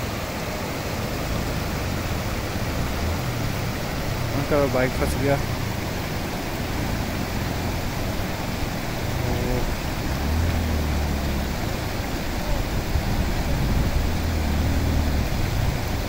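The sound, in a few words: mountain river flowing at a motorcycle river crossing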